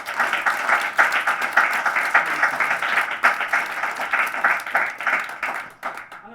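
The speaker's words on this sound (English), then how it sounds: "I think they deserve another round of applause." An audience applauds after a music performance at a reading event, with many hands clapping in a lively, uneven roll that stays strong throughout and tapers off near the end.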